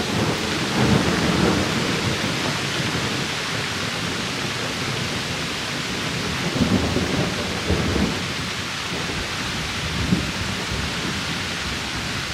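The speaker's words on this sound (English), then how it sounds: "it is pouring rain out here right now. We've got some thunder," Heavy pouring rain roars steadily outdoors while low thunder rumbles roll through several times, loud and continuous with no voices.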